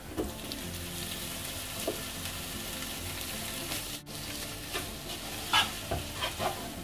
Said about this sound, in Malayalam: നന്നായി മിക്സ് ചെയ്ത് തക്കാളി ഈ മസാലയായിട്ട് യോജിക്കുന്നത് വരെ ഇളക്കി കൊടുക്കാം.